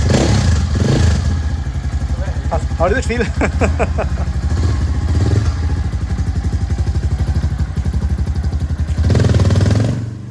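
Hero Xpulse motorcycle fitted with a rally kit, its single-cylinder engine thumping and revving steadily close by while ridden, with a short voice speaking over it and engine swells near the start and end.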